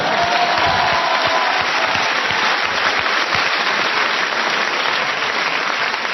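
Studio audience applause in a French comedy sketch show, a continuous wash of clapping at an even, loud level for about six seconds, with no voices over it.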